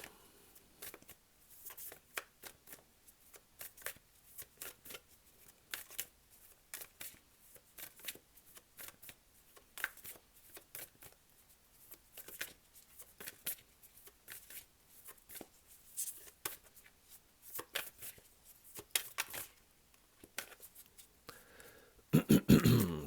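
Tarot cards shuffled continuously for over twenty seconds, a soft close riffling and flicking patter with irregular bursts, quiet and without talk.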